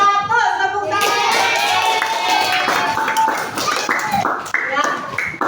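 A class of fifth-grade pupils claps their hands together for several seconds, a lively burst of clapping mixed with children's voices calling out.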